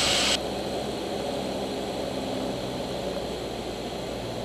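Training airplane's propeller engine droning steadily with power pulled back, a constant moderately loud hum heard from inside the cockpit after a brief brighter burst at the start, with no talk.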